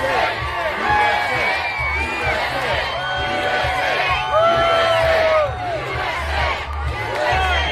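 Large outdoor political rally crowd in Carson City, Nevada cheering, whooping and shouting in a loud, sustained roar with rhythmic surges, voices layered throughout.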